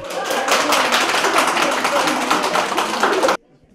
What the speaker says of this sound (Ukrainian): пані Валентина голосує під оплески комісії